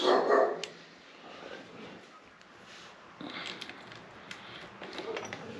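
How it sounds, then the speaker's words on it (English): Dogs barking on a street outdoors: a loud burst at the start, then quieter scattered barks and yips further off over background noise. "Walking down the street, these dogs just go crazy."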